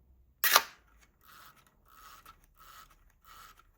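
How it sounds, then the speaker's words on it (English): A Pentax 645 medium-format camera fires one sharp, loud mechanical click, followed by three softer rasping bursts of its winding mechanism being turned in a quiet room. "if I just turn it the other direction to wind the camera, you'll see the mirror come down. And then eventually you'll hear a click."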